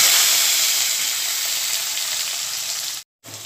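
Potatoes fry in hot oil with a little cumin in a kadai, giving a steady, loud, close sizzle and hiss that cuts out briefly near the end before resuming.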